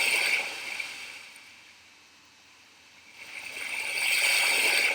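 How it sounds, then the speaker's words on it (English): Looping ocean sound effect plays as background audio in a Scratch project, a soft wash of water and surf that swells, fades to near quiet in the middle, then rises again, with no talking. "you'll hear the ocean sound in the background."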